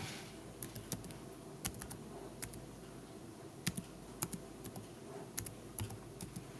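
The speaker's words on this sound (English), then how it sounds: "I'm going to change this to type in Yellowstone." Keys clicking in irregular bursts of keystrokes on a computer keyboard, fairly faint over a low room hum, with no voice.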